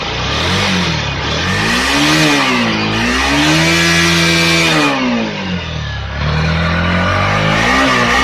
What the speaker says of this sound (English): I am also going to record my exhaust note of my bike.